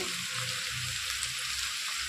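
Potatoes frying in a pan for a bottle gourd and prawn curry, giving a steady, close, hissing sizzle with no talking.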